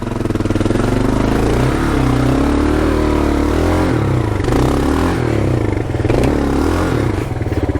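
An adventure motorcycle revs hard while stuck in mud on a rough Australian trail, its engine loud and close, rising and falling in steady strained bursts with scraping clatter.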